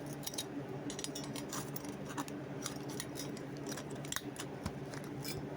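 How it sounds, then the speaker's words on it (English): A knife blade being cut out of metal, a steady run of close scraping and rasping strokes with small metallic clicks, repeated evenly throughout. "almost finished cutting out the fucking blade"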